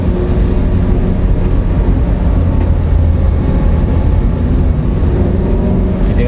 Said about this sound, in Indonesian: Ada orang ngegas motor ya Allah.